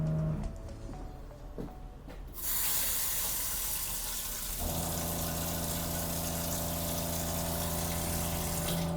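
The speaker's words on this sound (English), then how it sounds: "This is your water pump." A truck's onboard water pump kicks on with a steady droning hum and rushing water, running continuously and loudly after a brief quieter start.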